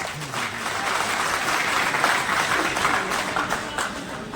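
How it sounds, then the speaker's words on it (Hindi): A crowd at a Hindi poetry gathering held for a legislator's birthday breaks into sustained, dense applause that holds steady for several seconds, with faint voices mixed in. "इसलिए सब कुछ एक बार ताली बजा दें"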